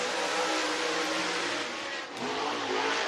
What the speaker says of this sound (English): Ashton Winger in the 12 machine coming around.